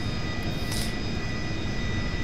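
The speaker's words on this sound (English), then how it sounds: "Yes, engine 1 is coming online now." Jet engine of a Rockwell B-1A Lancer spooling up in Flight Simulator X, a steady loud broadband roar with a constant high whine, continuous throughout with no voices.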